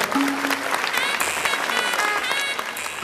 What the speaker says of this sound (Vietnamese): một tràng pháo tay cho Trúc Ly